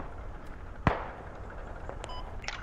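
A single sharp gunshot cracks in a Squad video game battle, followed by a few fainter distant pops and clicks over low ambient noise.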